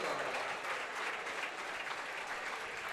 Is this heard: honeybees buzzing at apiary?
no